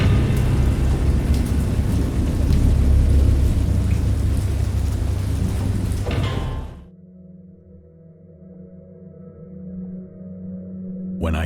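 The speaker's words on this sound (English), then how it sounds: "I know that I heard pearls of thunder" Heavy rain roars with low rumbling thunder for several seconds, then drops abruptly to a quieter hum with faint rain in the background.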